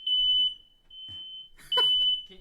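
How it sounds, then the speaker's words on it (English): A household smoke alarm beeps with a steady high-pitched tone, sounding continuously for about half a second, pausing, then returning, with brief muffled noises and a voice-like sound in between. "My fire alarm's going off."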